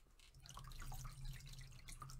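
Paint and water dripping and running off a freshly marbled silk scarf in ebru water marbling, a steady close patter of drips with a low continuous hum beneath, no voices.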